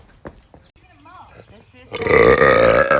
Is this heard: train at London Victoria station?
no